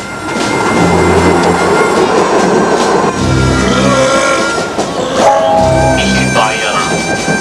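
A Vienna metro train runs with a loud, steady rumble and rolling rail noise throughout, with brief higher squeals and tones over the roar.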